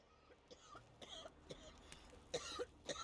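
A woman in the video game Witcher 3 coughs and clears her throat in a few rough bursts, faint and slightly distant, with no other talk.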